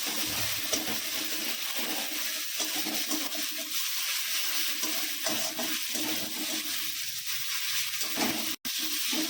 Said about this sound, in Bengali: ভালো করে ভেজে নিতে হবে আদা পেঁয়াজ রসুনটাকে